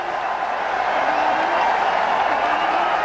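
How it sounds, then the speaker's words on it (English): A cricket stadium crowd at Green Park applauds and cheers India's final wicket in a 2009 Test against Sri Lanka, a dense, steady roar of clapping that carries on throughout. "And the crowd delighted."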